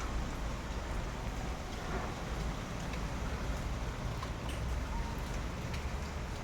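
Steady pre-monsoon storm rain hisses evenly throughout, a dense, constant wash of falling water with no talking.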